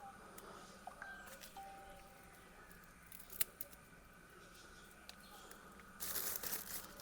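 Shears pruning dry plant branches outdoors, with a quiet crisp snip and light rustling of twigs and leaves under low background noise.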